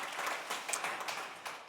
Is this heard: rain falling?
no